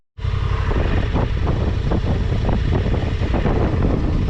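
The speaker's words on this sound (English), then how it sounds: "So it's a bit windy, if you can hear me." Steady, heavy wind buffeting a microphone outdoors in the Peak District on a motorcycle camping trip, a constant low roar with rumbling gusts and no voices.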